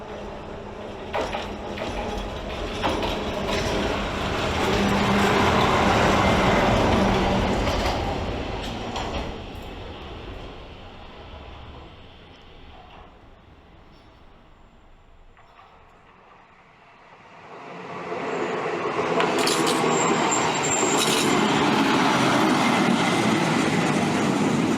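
A train at Papardes station in Alūksne municipality, Latvia, rumbles loudly and steadily, fades to a quieter stretch, then swells back to a heavy rolling roar.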